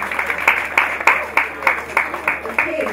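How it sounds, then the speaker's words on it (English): A hackathon event audience gives a round of applause for the team, a moderate, rhythmic clapping with distinct beats and a faint room murmur beneath. "A round of applause for our brilliant team."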